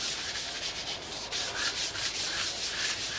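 A scrubbing brush worked back and forth across a floor, a steady close rasping scrub with no gaps, moderately loud and alone.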